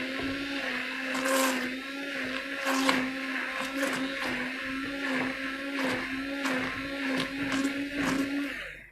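A kitchen blender whirs steadily through a sweet condensed milk mixture, its motor holding a constant droning hum with slight fluctuations in load, fairly quiet and continuous with no voices.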